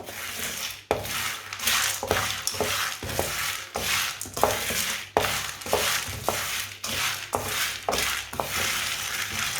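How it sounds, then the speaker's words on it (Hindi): Chickpeas being roasted in a pan on a low flame for a winter recipe, with continuous sizzling and repeated stirring scrapes that come in rhythmic strokes, close and fairly loud, with no talking. "कम आंच पर इसे ब्राउन कर लेना है, हल्का सा भून लेना है।"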